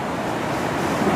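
Steady broadband rushing of river water flowing hard through the Elora Gorge in mid-November, a continuous close wash with no talking over it.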